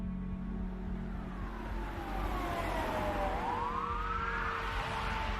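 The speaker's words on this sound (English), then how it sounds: "It was not long before a fleet of police cars, fire trucks, and ambulances descended on this quiet residential street." Wailing sirens from a fleet of police cars, fire trucks and ambulances on a quiet residential street, sweeping up and down in pitch over a steady low rumble, loud and continuous throughout.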